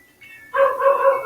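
A dog gives a short, close bark, a single sharp yelp rising after a faint lead-in and ringing for under a second indoors.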